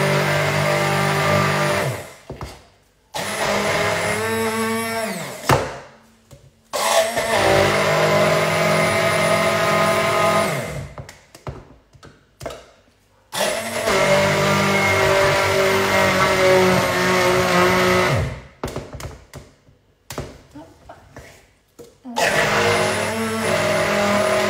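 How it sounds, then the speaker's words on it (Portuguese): An immersion blender working through frozen fruit, a loud motor whine that strains and grinds in repeated bursts of several seconds, split by short pauses. "a fruta está congelada e a varinha mágica demora um bocadinho mais a triturar"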